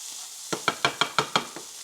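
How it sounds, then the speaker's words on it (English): Chicken stir fry in a pan over lowered heat, a soft steady sizzle broken by about seven quick rhythmic stirring scrapes, close and moderately loud without speech. "Turn my fire down. We in the stir fry now,"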